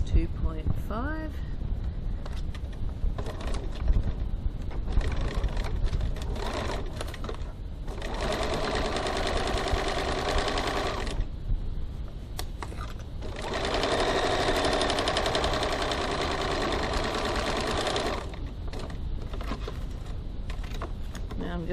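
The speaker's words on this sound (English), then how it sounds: "now I'm going to stitch my bottom gusset seam" A home sewing machine stitches the bottom gusset seam of a fabric boot-shaped gift bag at a 2.5 stitch length, running in two sustained, steady whirring bursts with a short pause between, close and fairly loud over a quiet room.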